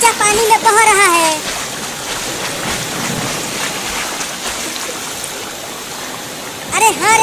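Water flows and splashes steadily in a river carrying a basket along, a continuous rushing wash with brief splatters, while high-pitched cartoonish voices chirp at the start and near the end.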